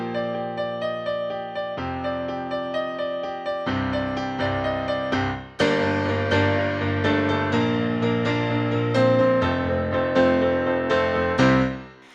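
Piano rendition of a song, a steady repeated chord pattern that grows fuller and louder midway, played solo with no voices, ending on a held chord.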